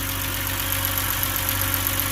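BMW engine idling with a light, rapid lifter tick riding over a steady low rumble, heard up close and alone, with no voices.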